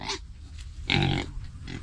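Close, rough grunts from a pig on a farm, one stronger squealing burst in the middle framed by quieter snorts.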